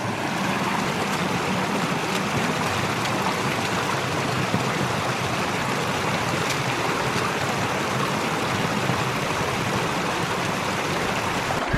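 A small creek flows steadily into a little pool where a screened pipe intake for a ram pump sits, giving a constant close rushing wash with no breaks and no voices.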